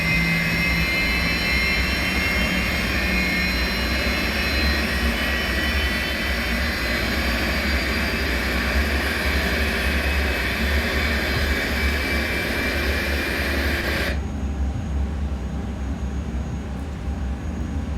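Airbus A300-600 engine igniting and spooling up in a flight simulator: a loud, sustained jet whine and roar with steady tonal hum that cuts off abruptly near the end, leaving a quieter low rumble.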